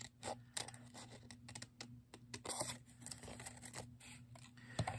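Scissors snipping diagonally across a piece of card for a spooky bat craft, a string of quiet, close crisp cuts and paper rustles with soft handling noises between them.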